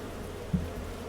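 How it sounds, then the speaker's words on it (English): A faint, low bee buzz in Farming Simulator 22 hums steadily, swelling briefly louder for a moment midway before settling back. "We have bees."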